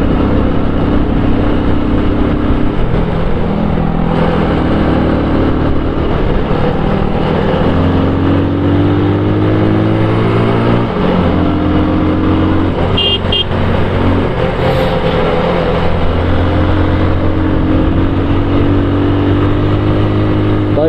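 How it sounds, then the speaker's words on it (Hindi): Yamaha R15 V3 motorcycle engine droning steadily on a mountain road, its pitch rising and falling through gear changes, loud and close with wind rush throughout. "एक नंबर दौड़ रही है बाइक"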